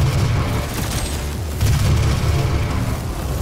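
Weapon fire and blasts from the video game Doom as a player shoots enemies, a dense, loud, continuous run of booming shots and explosions with no pauses.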